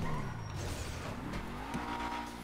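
Car brakes screeching in GTA5, a tire squeal with engine noise rising and sliding in pitch at moderate loudness, with no talk over it.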